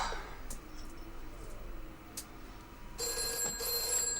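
A telephone starts ringing partway through, a bright electronic trill that holds steady to the end over a quiet room.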